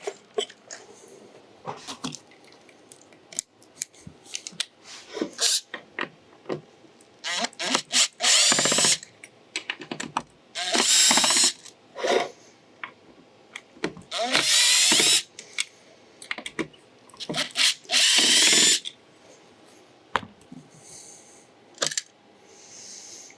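Power drill spinning out screws to remove a module from the back of a Ford Explorer touch screen, several short loud whirring bursts separated by clicks and handling noises, close by.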